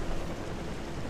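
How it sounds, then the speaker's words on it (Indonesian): Dense, hissing downpour of heavy rain in a video game, steady and even, fills the brief moment with no voices. "Hujan deras."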